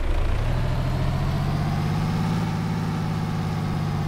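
A truck tractor unit's diesel engine idles close by, a steady low rumble with a constant mechanical drone that holds unchanged throughout.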